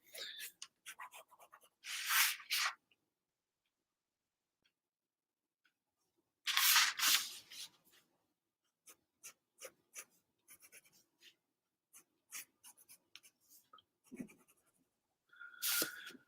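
A 0.8 pen drawing in a sketchbook, heard as close, quiet scratchy strokes in separate bursts, some longer and busier, with long silent stretches between them.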